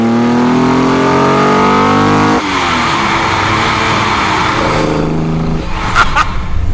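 A 1972 Holden XU1 Torana race car engine revs hard and loud close by, its pitch climbing, then dropping abruptly and building again through another rising rev before settling, with a couple of sharp clicks near the end.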